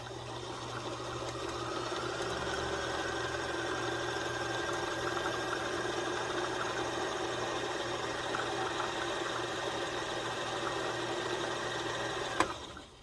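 A Kenmore 158.13400 sewing machine runs at a steady, even pace, its motor humming with a continuous mechanical whir throughout and a single sharp click near the end.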